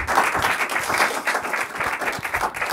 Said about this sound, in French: Applaudissez jusqu'à ce que je vous donne mes autres arguments.